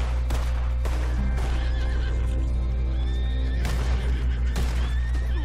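A horse whinnies loudly in Red Dead Online, its neigh rising and falling over a steady low game drone, with brief hoof clip-clops and short sharp bursts mixed in.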